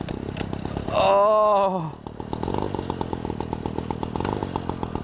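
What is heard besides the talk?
pull-starting the petrol engine built into a bicycle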